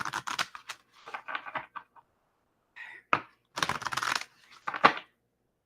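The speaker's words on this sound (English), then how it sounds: "One more shuffle." Tarot cards are shuffled by hand, giving quick papery riffles and flutters in uneven bursts separated by pauses, close up with no talking.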